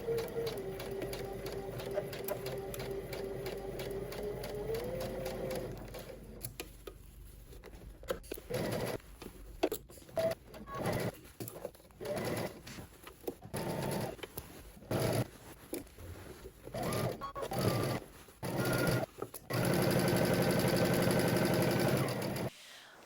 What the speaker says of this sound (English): Now we're gonna head to the sewing machine. We're gonna stitch all the way around using 5/8 of an inch seam allowance.